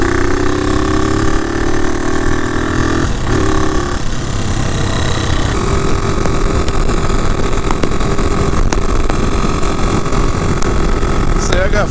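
A 2020 Hawk 250 motorcycle engine drones loud and close on a trail ride. The tone stays steady, with gear-like pitch changes partway through, and someone talks under the engine noise.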